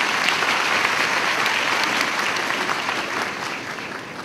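A university convocation audience of graduates gives loud, continuous applause, dense clapping from a large hall that holds steady and eases off a little near the end.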